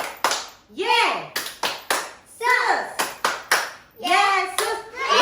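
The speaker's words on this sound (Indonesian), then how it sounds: "Tepuk tangan Yesus dulu ya." Children at an online kids' church service clap in short bursts of a few hands at a time, with a voice chanting between the claps close to the microphone.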